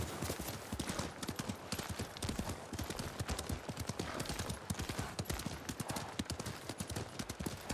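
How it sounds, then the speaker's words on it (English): Hooves clip-clop in a fast, steady galloping rhythm as a horse is ridden in the video game Ghost of Tsushima, crisp and close, with faint ambient noise underneath. "riding the horse in this game, the mechanics feel really good"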